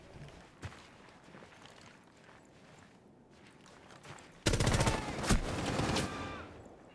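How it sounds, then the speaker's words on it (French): Gunfire in Rainbow Six Siege: a sudden loud burst of rapid shots breaks out after a quiet stretch and rattles on for about two seconds, with sparse faint shots and footsteps before it. "Je lui mets des balles."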